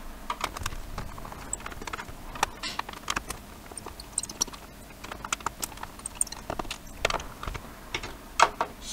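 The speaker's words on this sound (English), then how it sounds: "this bit will probably all be in fast motion while I take all the screws out" Screws are backed out with a screwdriver in sped-up footage, giving rapid irregular clicks, ticks and scrapes that patter continuously at close range.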